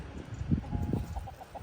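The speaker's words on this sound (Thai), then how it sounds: "โอ้มีแม่ไก่ แม่ไก่อะไรเนาะไข่อยู่เนี่ย" A hen clucks in a few low, soft bursts, then gives short higher calls, heard close with light background noise.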